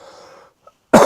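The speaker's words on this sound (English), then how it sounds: "I'm so sorry with the coughing." A single sharp cough bursts out near the end after faint background sound and a brief silence, close and loud.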